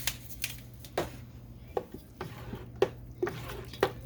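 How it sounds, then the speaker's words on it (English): A spoon stirs barbecue sauce ingredients, ketchup and red pepper flakes among them, in a pot. Sharp clinks and scrapes against the pot land at irregular intervals over a quiet kitchen background with a steady low hum. "I'm gonna stir all this up."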